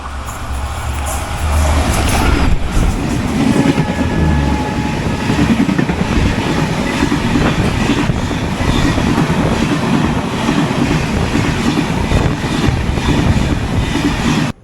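Kanchankanya Express train passing close by during the monsoon season in the Dooars, with a loud, steady rumble of wheels and carriages that holds at full level for the whole stretch, along with faint rail clatter.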